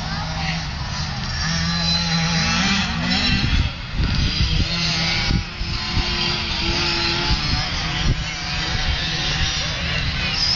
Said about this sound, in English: That sounds like a scooter, last one.